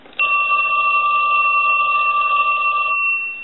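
A French-style rotary telephone's bell, freshly repaired, rings in one loud continuous burst of about three seconds, bright and steady, stopping cleanly with no talk over it.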